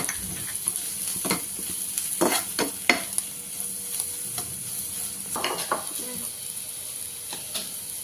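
Okra in a pan being stirred with coriander powder, red chilli powder and garam masala: repeated close scraping strokes of a spatula over a continuous soft sizzle, with clattery bursts at irregular intervals.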